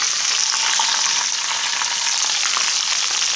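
Onions and spices fry in a pan for a village-style fish curry, giving a steady, close, even sizzle with faint crackles and no voices.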